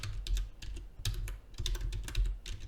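Keys tapped on a computer keyboard, a quick run of close, clicky keystrokes with heavier thumps in an uneven rhythm, no voices.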